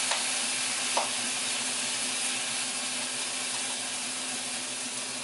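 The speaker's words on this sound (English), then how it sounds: "I was cooking my rice too hot." Rice frying over high heat in a hot pan gives a steady broad sizzle, with one brief knock near the start, held at an even moderate level with no talking.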